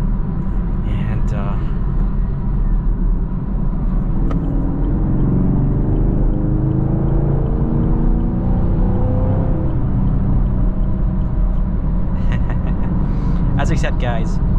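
A 2022 Chevy Camaro's V8 rumbles steadily from inside the car, then its pitch rises through the middle stretch as it accelerates hard, with a voice talking over the engine.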